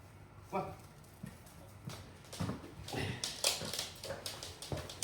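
A little dog whimpers and yips in short, faint bursts outdoors in a pitch-black park at night, heard close over a steady background hiss.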